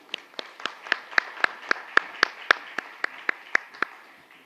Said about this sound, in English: Let's clap it up for Dr. Herrera.